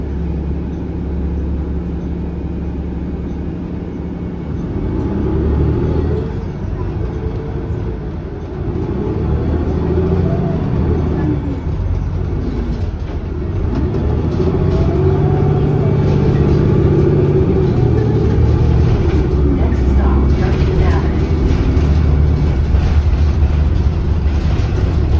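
Low, steady engine drone and rumble inside a moving TTC Nova Bus on Route 51 Leslie, with road noise swelling and easing as the ride goes on, close and continuous, no voices.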